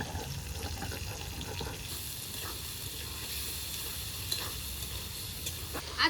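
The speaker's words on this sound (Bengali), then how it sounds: "আলুগুলো তেলের মধ্যে নেড়ে চেড়ে টমেটো দিয়েছি" Small potatoes and tomato sizzle and crackle in hot oil while being stirred in a pan, a steady close frying hiss with occasional clinks, with no talking.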